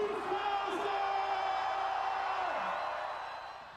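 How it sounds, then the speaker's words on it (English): A New Year's Eve midnight crowd for the year 2000 in Hawaii, a dense roar of many voices whooping and yelling together, with a whistle-like tone sliding down over it before the noise fades. "Let the people scream and shout and everything else like that."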